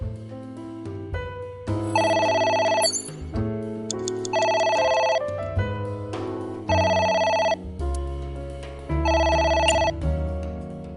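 An in-game telephone in AI: The Somnium Files rings in repeated bursts of bright electronic trilling, four distinct rings over a looping musical backing, loud and close.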